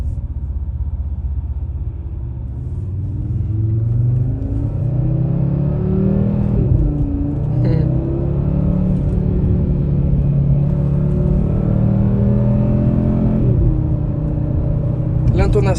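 An Audi RS3 8Y rumbles and revs on downshifts, its exhaust crackling with a few sharp pops over a steady close engine drone, while people talk throughout.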